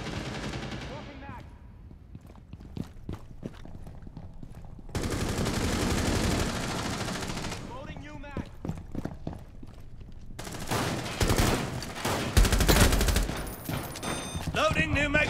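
Gunfire in the Rainbow Six Mobile video game: rapid bursts of automatic shots and single cracks in several clusters, loud and close, with in-game voice lines between volleys.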